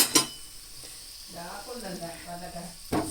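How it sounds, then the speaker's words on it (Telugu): Ginger-garlic paste and turmeric stirred in frying oil, a low sizzle with a few sharp clinks of a spoon on the pan at the start and end, close and fairly quiet, a faint voice-like murmur in the middle. "ఇందులో కొంచెం అల్లం వెల్లుల్లి పేస్ట్ వేసుకొని ఈ విధంగా బాగా కలుపుకోవాలి"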